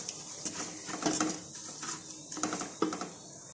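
Red chili and salt being cooked for a red bean lobia daal, with a spoon scraping and clinking against the pot in irregular stirring strokes, close and moderately quiet, with a faint sizzle beneath.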